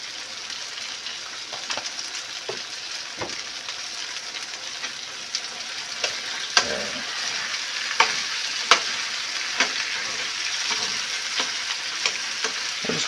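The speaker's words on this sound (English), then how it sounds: "let the onions kind of absorb the heat and sweat out just a little bit while the meat continues to brown" Onions and beef for a Greek stew sizzle steadily in a pot, a close, even frying hiss broken by occasional sharp crackles and stirring clacks, with no talk over it.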